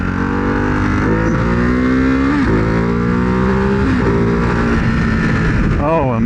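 A 2024 Ducati Hypermotard 698 Mono single-cylinder motorcycle pulls hard through rising gear-by-gear revs, loud and close from the rider's position, with wind rush and a rider's voice over the engine.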